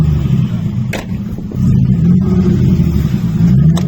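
A petrol car engine, a 2.0 BMW E28 or a 1.3 Mazda 323, rumbles low and loud, dipping briefly before revving back up to a sustained, throaty roar close by.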